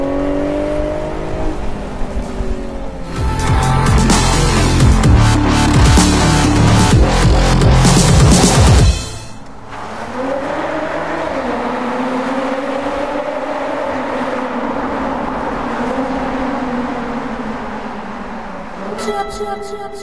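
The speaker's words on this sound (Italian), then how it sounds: "farvi sentire forse l'aspetto più emozionante di questa macchina, il sound" A Jaguar F-Type on a road test revs hard in loud, rising bursts, then settles into a smoother, quieter engine drone as it cruises, with a brief sharp rise at the very end.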